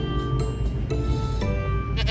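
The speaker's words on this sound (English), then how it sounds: "Sheep." Sheep bleating in an animal-sound guessing game, a sustained, loud, wavering bleat that fills the whole clip with a brief break partway through.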